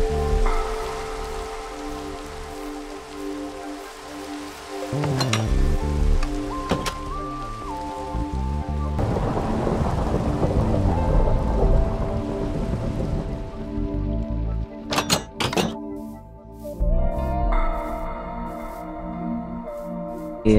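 Steady rain falls in the Minecraft world, a broad hiss of drops that runs the whole way, with soft game tones and a few brief clicks near the end and no distinct thunder.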